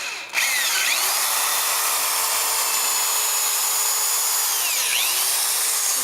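A power drill drives a screw into soft wood for a wooden planter box, whirring loudly and continuously for several seconds at close range.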